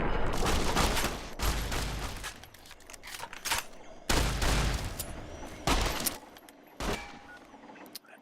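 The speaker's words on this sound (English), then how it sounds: "you just open fire on me" Gunfire in the video game Fallout New Vegas, with repeated loud bursts of rapid shots separated by short pauses, some bursts sustained like automatic fire and others as single cracks.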